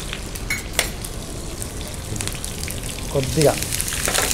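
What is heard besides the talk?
garlic, curry leaves and green chillies crackling as they fry in oil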